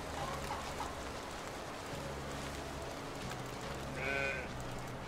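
Sheep bleat in Force of Nature 2, a few soft cries rising over a steady hiss of rain-like ambience, with one brighter bleat near the end.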